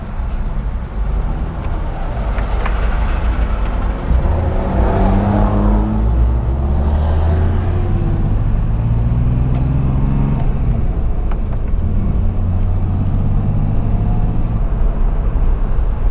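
An old car with a 63-year-old motor drives along in 110°F heat, its engine a steady low hum and rumble with shifting pitch as it rolls, road noise constant and fairly loud.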